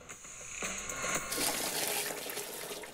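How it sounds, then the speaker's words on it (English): Water being drained off boiled long beans, a close splashing pour that swells into a steady rushing gush for a few seconds, with no talk. "Then drain the water."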